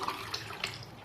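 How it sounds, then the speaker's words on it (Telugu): Water pours from a glass into a pot of washed rice in a home kitchen, a steady close splashing and gurgling that lasts about a second with no voices. "ఇప్పుడు దీంట్లో వాటర్ పోద్దాము"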